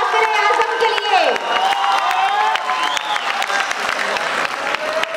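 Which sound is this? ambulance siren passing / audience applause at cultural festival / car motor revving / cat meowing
audience applause at cultural festival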